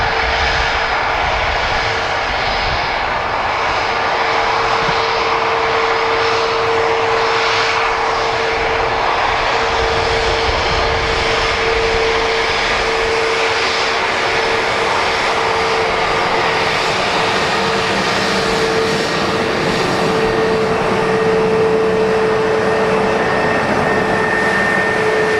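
An arriving airliner at Dublin Airport roars loud and close in a sustained engine drone with a steady high whine running through it, holding strong for the whole stretch without talk.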